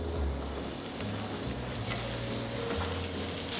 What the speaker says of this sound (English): Pop the pan back on the heat and just add a little bit of fresh olive oil to the pan and in with the vegetables.